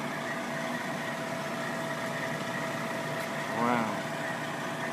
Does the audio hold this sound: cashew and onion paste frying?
no